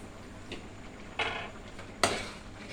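A spoon stirs ginisang monggo stew with eggplant and malunggay after Ajinomoto seasoning goes in, making three soft scraping clinks against the pot, the last one loudest, over quiet background.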